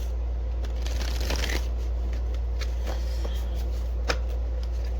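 A deck of cards is shuffled repeatedly, quick riffling and flicking bursts over a steady low hum, with no talking.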